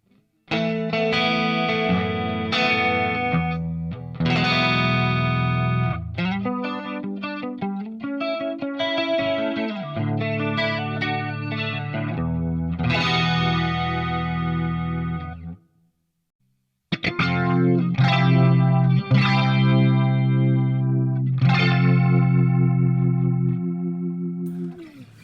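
Distorted electric guitar run through an Axe Fx III with a low-mix stereo dimension chorus, playing sustained chords and riffs loud and continuously, with one brief gap of silence partway through.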